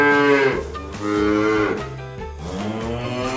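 A cow moos in long, drawn-out calls, three loud bellows close by with brief dips between them and no talk over them.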